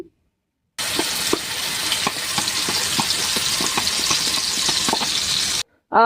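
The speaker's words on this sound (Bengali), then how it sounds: "আবার একটু ঘি দিয়ে নিচ্ছি কড়াইয়ে। এই মশলাটা বেটে রাখা ছিল, ওটা আমি এখন দিয়ে দিচ্ছি।" Spice paste frying in hot ghee in a wok, a steady loud sizzle with repeated scraping and stirring strokes, heard alone without talk.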